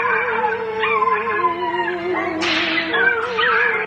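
A dog howls and cries in long, wavering, whining tones with a sharper yelp near the end, loud and close for a few seconds, with no talking.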